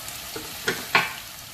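Mapo tofu scraped and stirred in a hot frying pan, with two or three brief scraping strokes along the bottom over a soft, steady sizzle.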